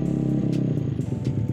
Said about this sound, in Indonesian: Jadi setelah ini kita akan coba POV tes jalan si motor Yamaha Mio ini.